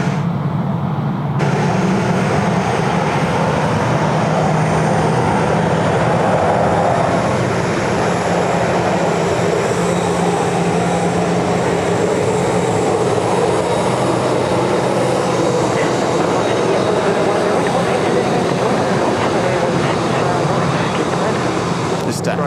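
A jet airliner taxis past on a rain-soaked apron at Sydney Airport, a loud, steady engine roar with a broad rushing wash that holds throughout, with a voice talking over it.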